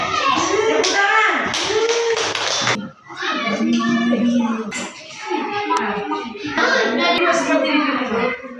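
A classroom of children breaks into a short burst of hand clapping during a game in a lesson. Excited children's voices and scattered taps continue over and after the applause.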